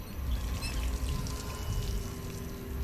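Drinking water from a fountain in the video game Dishonored 2: a continuous splashing, pouring stream of water running steadily for a few seconds at close range, with no talking.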